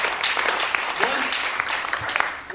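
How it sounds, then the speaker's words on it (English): Audience applause during a speech, a brief burst of crowd clapping with a voice audible over it. "I want some applause for that one."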